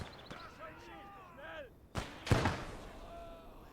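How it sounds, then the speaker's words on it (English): A grenade in the World War II game Gates of Hell: Ostfront detonates as two sharp, loud explosion blasts in quick succession after quieter battle sounds. "So he gets a nice nade on us on the side, unfortunately."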